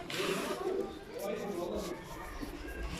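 Pigeons coo inside a box, steady low rolling calls running through the whole stretch at moderate level, with a little background noise around them.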